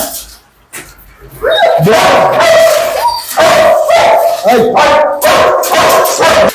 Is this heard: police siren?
no